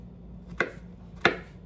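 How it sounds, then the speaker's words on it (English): Two crisp knife chops on a cutting board while mincing garlic cloves, evenly spaced about half a second apart, close and fairly loud with quiet room tone between strikes. "3 cloves finely chopped. I'm just gonna mince this up"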